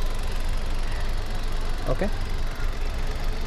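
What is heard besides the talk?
new car engine idling during pre-delivery inspection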